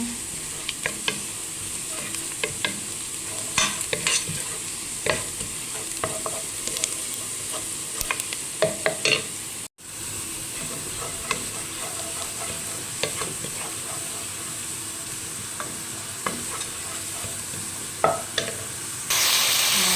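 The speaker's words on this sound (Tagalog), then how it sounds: "Ayan, mag-igisa na po tayo. Ito lang sibuyas at saka bawang" Onion and garlic sautéing in a pan, a continuous loud sizzle broken by frequent sharp clicks and scrapes of stirring, with one brief dropout midway.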